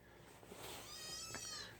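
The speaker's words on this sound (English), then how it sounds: "Oh, almost stepped on a kitty." A cat gives a single faint, drawn-out meow outdoors near a shed, quiet and brief against a low background hiss, with no talk over it.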